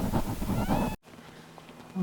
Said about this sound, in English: we've got 2 kittens born, and Burley can hear them